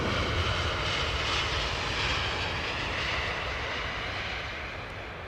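A Boeing 777 airliner at Heathrow, its jet engines giving a steady, loud broadband roar that holds for several seconds and eases slightly toward the end.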